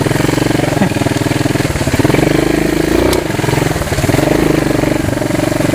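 A Honda CT200AG trail motorcycle rides through water, its engine throbbing loudly and steadily close by, with splashing and slight shifts in revs throughout.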